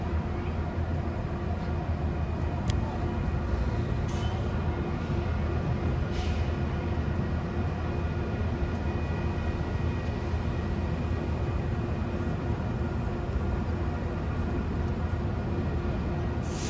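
An Amtrak or Metrolink train passing at San Clemente, a steady loud rumble that holds constant throughout with no break, close by and alone.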